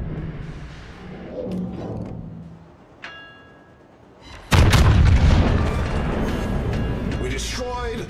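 Battleship main guns fire in the naval game World of Warships, a sudden heavy booming blast that rolls on loudly for several seconds after quieter in-game voices and effects.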